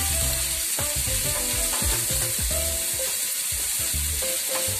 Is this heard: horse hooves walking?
no